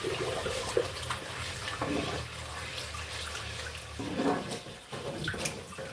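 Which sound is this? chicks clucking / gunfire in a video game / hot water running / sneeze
hot water running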